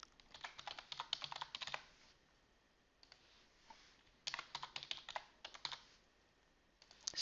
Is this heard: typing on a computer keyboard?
yes